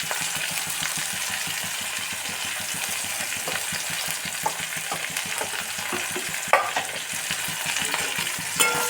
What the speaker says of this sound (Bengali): খুব কড়া করে ভাজবো না